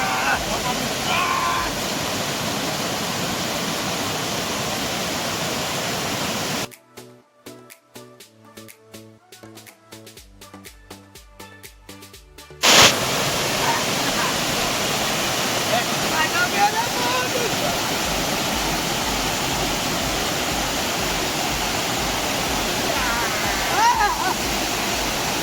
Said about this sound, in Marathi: गाईज तुम्ही जर येत असाल श्री मलंगडला तर या धबधब्याला निश्चित भेट द्या.